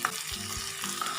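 Potato, onion and chopped green chili fry together in a pan, giving a soft sizzle with faint stirring scrapes and a couple of low knocks from the utensil, quiet and close, with nobody talking.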